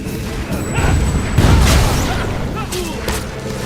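Gunfire rattles in the video game Fable III, a dense mix of booming shots and crashes in a chaotic battle, with voices shouting over it.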